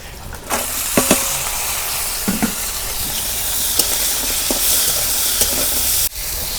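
Garlic and onion frying in oil in a pot over a clay stove, a bright continuous hiss and sizzle up close with occasional stirring knocks and a brief cut near the end, no voices.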